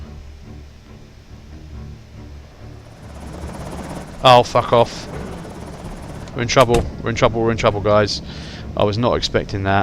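A helicopter drones overhead in the survival game Project Zomboid, a steady low rotor rumble that builds and then persists beneath several bursts of excited talk.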